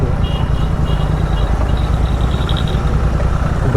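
A Royal Enfield motorcycle engine running loud and steady up close, with a continuous rough low thrum and no letup, the bike showing an engine problem.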